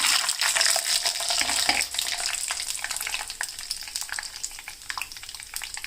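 Peanuts fry in hot oil for the tempering of tamarind pulihora, a dense crackling sizzle throughout with occasional stirring scrapes and no talk.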